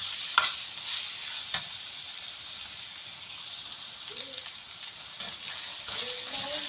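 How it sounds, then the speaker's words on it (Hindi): Masala is stirred and fried in a pan for capsicum and minced-meat keema, with a soft continuous sizzle, scraping stirs and occasional clinks, and a voice briefly heard. "ये अब भुन गया है और मैं इसमें अब दही डालकर भूनूंगी।"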